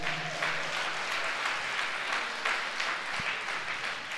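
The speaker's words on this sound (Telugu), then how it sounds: "2 చేతులు ఆకాశం తట్టెత్తి చప్పట్లు కొడదామా?" Congregation at a church sermon clapping their hands together, a dense, steady wash of applause from many people that holds at an even level throughout.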